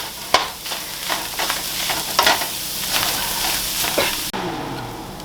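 A fish and mashed potato patty mixture gets stirred in a hot pan, with a spoon scraping and knocking repeatedly over a steady low sizzle. One sharp clack sounds near the end.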